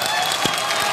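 Brief burst of studio audience applause on a televised Indian talent show, a dense wash of clapping that fills the whole second.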